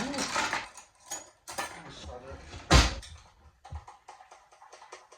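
A spoon stirs mayonnaise in a bowl, scraping and clinking in irregular bursts with one sharper knock partway through, close by, with someone talking intermittently over it.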